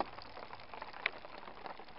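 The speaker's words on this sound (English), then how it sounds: "It's raining." Rain patters on a tarp at a lakeside campsite in Algonquin Park, a soft steady hiss of drops with a couple of louder single taps standing out.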